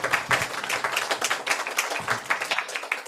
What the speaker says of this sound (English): a nice round of applause to Gert